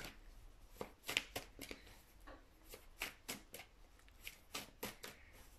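A deck of cards is shuffled and handled close by for a card reading, with a quiet run of soft riffling and slapping bursts, some louder snaps among the gentle rustling.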